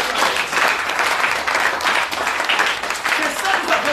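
A church congregation at a prophetic sermon breaks into loud, continuous applause acclaiming Jesus. Many hands clap in a steady wash, mixed with voices, for the whole stretch.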